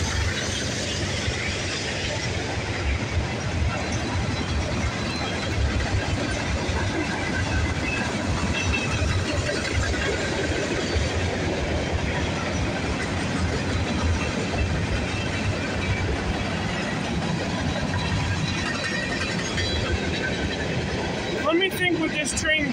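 Norfolk Southern 15M freight train led by two BNSF locomotives rolling past at Bayview Road, a steady loud rumble of wagons and wheels that fills the whole stretch, with a voice talking over it now and then.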